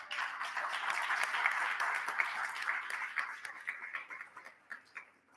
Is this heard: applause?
yes